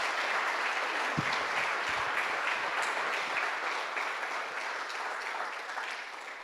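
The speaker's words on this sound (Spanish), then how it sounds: "Dele un aplauso al Ministerio de Alabanza." A church congregation applauds the worship ministry during a Sunday morning service, sustained dense clapping from many hands that fades slightly toward the end.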